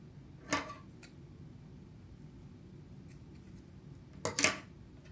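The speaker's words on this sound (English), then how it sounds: "I'm going to cut 4 pieces of string the same length." Scissors snip through pieces of string, two short crisp cuts spaced a few seconds apart, close by and fairly quiet over a low background hum.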